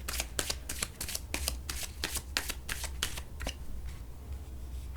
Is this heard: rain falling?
no